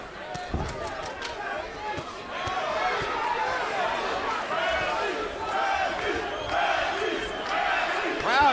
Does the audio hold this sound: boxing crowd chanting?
yes